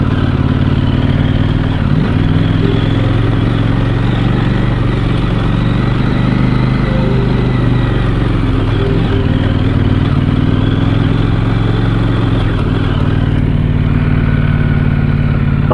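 A KTM 790 motorcycle ridden in second gear through a national park, a constant loud engine drone with wind rumble and faint clatter, steady throughout without talk.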